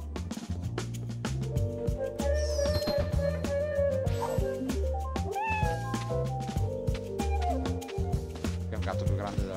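A cat meows a few times in the Monopoly Plus video game, the short rising cries sitting on top of loud, continuous game music.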